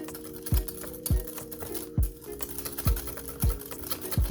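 Jalapeno ranch dressing being whisked by hand in a bowl, rapid repeated clicking and tapping strokes of the whisk against the sides, steady and close, with no talking.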